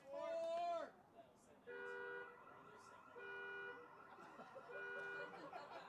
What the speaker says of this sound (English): Did we get a new car alarm sound this year?